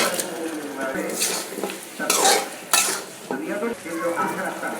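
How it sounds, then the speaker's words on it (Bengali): Chicken pieces go into a pan of sizzling spice paste and are stirred with a metal utensil, bringing bursts of frying hiss and scraping clatter against the pot. "এখন দিয়ে দিব আগে থেকে ধুয়ে রাখা মুরগির মাংসগুলো"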